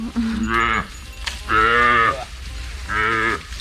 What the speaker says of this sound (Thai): ลูกวัวจะมานี่หรือเปล่า